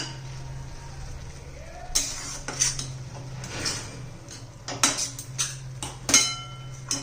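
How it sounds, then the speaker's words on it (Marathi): A spoon scrapes and clinks in a pan as cardamom powder is stirred into carrot halwa made with jaggery, in irregular metallic taps over a low steady hum. "एक चमचा हे वेलची पावडर घालून सगळं मिक्स करूया"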